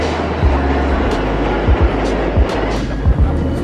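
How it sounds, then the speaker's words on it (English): A Manhattan-bound express subway train in New York rumbling along steadily, with low rhythmic clacks of wheels over rail joints repeating every half second or so, close and continuous. "This is a Manhattan-bound express train."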